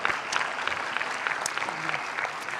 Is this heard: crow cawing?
no